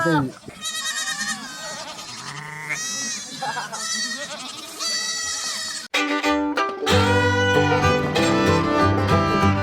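Sheep bleat near and loud in Hustai National Park, Mongolia, with several overlapping wavering calls that run almost without a break, sometimes over one another.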